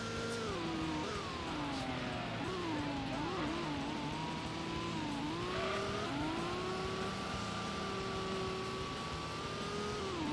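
A race car in the video game Gran Turismo accelerates in second gear, its engine droning loud and steady with slowly rising pitch, wavering as wheels struggle for grip, alone without talk.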